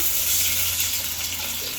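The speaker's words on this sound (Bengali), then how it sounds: "একটু পানি দিয়ে দিলাম।" Water is poured into a cooking pot of prawn and tomato sour curry, making a steady, close gushing splash with a low simmering rumble underneath. The sound runs unbroken for about two seconds with no talking.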